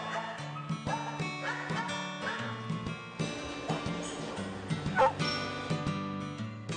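Several dogs bark and yip in quick bursts, some whimpering, at a dog care center housing over 100 dogs, over a steady background of music or room noise.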